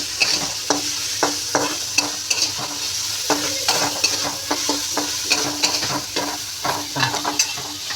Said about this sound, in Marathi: जरा भाज्या परतून घेऊया, कच्चा पण निघून जाऊ द्या भाजीचा थोडाफार.